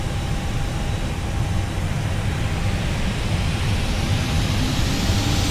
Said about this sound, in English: I can hear an airplane taking off.